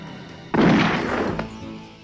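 A gunshot in a Filipino action film starring Robin Padilla and Phillip Salvador: one loud, sudden blast that rings and decays, followed by a second, fainter crack a moment later.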